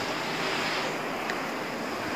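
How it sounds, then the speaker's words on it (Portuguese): Steady, broadband wind rushing continuously past the microphone, a constant airy roar with no pauses. "Tá ventando."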